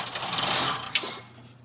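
A Brother KH585 knitting machine carriage slides across a row in one brief, swishing pass with a small click near the end, close and alone.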